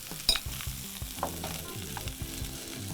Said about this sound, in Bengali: এটা আমরা 2-3 মিনিট নেড়ে রান্না করব।